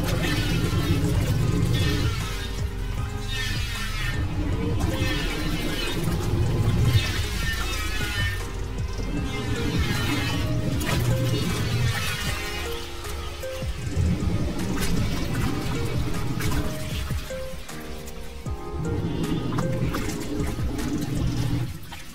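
An LG 11 kg semi-automatic washing machine (P1155SKAZ) churns clothes in water through a 15-minute program, a loud, continuous sloshing and motor hum that stays steady and close throughout, with no speech.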